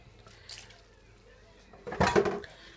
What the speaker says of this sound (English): I'm going to put a little bit more water in here